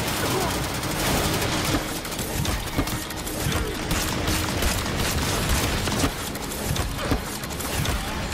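Turrets in a video game firing at enemies, dense continuous rattling gunfire with booms throughout, close and loud, with a voice talking over it.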